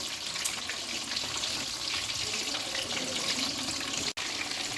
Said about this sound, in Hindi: अब हम इसकी साइड चेंज करते हैं। इसी तरह हम दूसरी साइड से भी इसको फ्राई कर लेंगे।